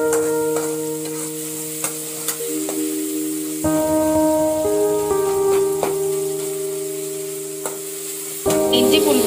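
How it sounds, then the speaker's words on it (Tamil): Tomatoes sauté in a pan, a close, steady sizzle with occasional stirring taps, heard under sustained tonal music throughout. "தக்காளி நல்லா மசிற அளவுக்கு நம்ம வதக்கணும்."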